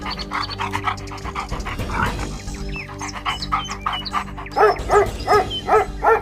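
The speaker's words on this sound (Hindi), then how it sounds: "मंत्री ने एक कुत्ते को बक्से से कोई चीज सूंघाई और उसके बाद कुत्ता आगे बढ़ने लगा" A dog sniffs and pants close by while following a scent, with quick rhythmic breaths and snuffles that grow louder and more insistent toward the end, mixed with faint whimpering.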